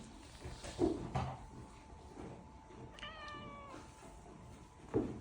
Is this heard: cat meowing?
yes